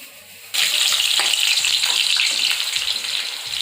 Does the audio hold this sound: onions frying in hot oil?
yes